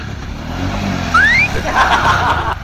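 A motorcycle engine hums steadily up close, with a brief rising whine in the middle, over constant road noise.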